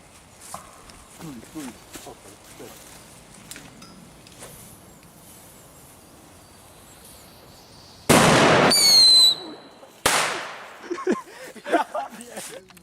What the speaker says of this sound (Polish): Dobra, petarda nitrate.